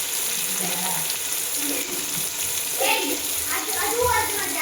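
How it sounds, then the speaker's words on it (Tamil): Onions fry in a pan for chicken biryani, a steady, loud hiss running without a break while a voice talks over it. "வெங்காயம் நல்லா வதங்கிடுச்சு."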